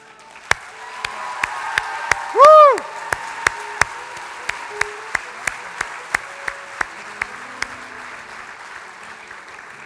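A crowd applauds at a school award ceremony with steady rhythmic clapping in unison, sharp regular claps over a soft murmur, and a brief whistling squeal early on.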